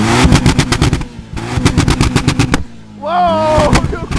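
Exhaust backfires from a twin-turbo Toyota Supra: loud, rapid bursts of sharp bangs over a revving engine, a brief gap, then a rising turbo whine with more pops, heard up close.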